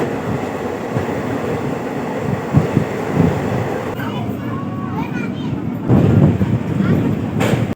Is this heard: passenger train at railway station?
yes